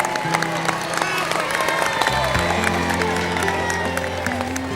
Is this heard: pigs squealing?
no